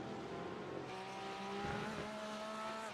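Porsche GT3 race car engine in the iRacing sim at the Daytona road course: a steady, sustained engine drone with rising harmonic tones as it revs through the gears, moderately loud and alone with no talk.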